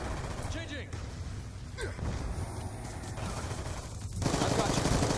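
Black Ops 2 PC match gunfire, with weapons fired without attachments: sustained rattling bursts and mechanical clatter mixed with other game sounds and voices, heavier near the end.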